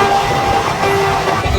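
Guntur to Andaman express train running on a long journey, a loud continuous rumble and rattle of wagons with a sustained tonal whine riding over the clatter, heard from on board.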